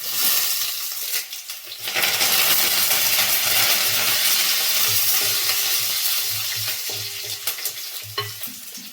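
Curry leaves hit hot oil in a pan for a Tamil Nadu style chicken curry, bursting into a loud, steady sizzle and crackle that runs throughout, with brief spitting pops and occasional stirring clatter.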